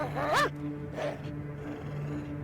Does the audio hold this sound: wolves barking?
yes